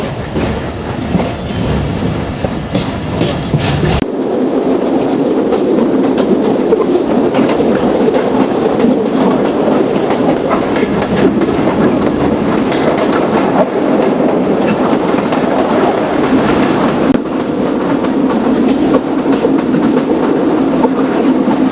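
Inside a Mongla commuter local train, a loud steady rumble of wheels on track with rhythmic clickety-clack fills the whole stretch, deepening after a few seconds and briefly dipping near the end.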